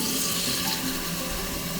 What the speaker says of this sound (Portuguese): vamos ligar a torneira aqui pra eles verem